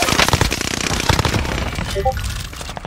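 Rapid bursts of gunfire in Call of Duty: Vanguard's battle royale mode, a dense, loud crackle of shots in quick succession that thins out toward the end.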